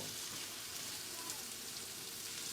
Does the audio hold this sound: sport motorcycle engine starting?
no